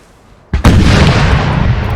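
Cannon artillery fire in a Napoleonic battle video game: a sudden loud boom with a sharp double report, then a long rumbling roar that stays dense and heavy to the end.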